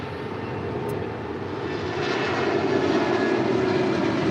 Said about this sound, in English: the Polar Air Cargo 777 now rolling down